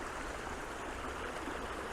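Water flows steadily in a stream in Shenandoah National Park, a soft, continuous rushing wash that stays faint and unbroken with no voices.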